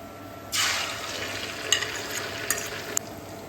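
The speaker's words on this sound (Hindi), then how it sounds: "चलिए जी घी गर्म हो चुका है, तो सबसे पहले इसमें डालेंगे जी अंडे।" Seasoned eggs poured into hot ghee burst into a loud, sudden sizzle that then settles into steady frying crackle with a few sharp pops, close by and without speech.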